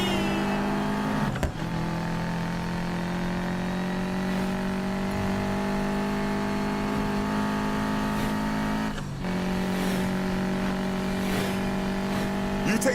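Race car engines roar steadily in the video game Need for Speed Payback, a loud sustained drone that briefly dips twice, with faint tire noise.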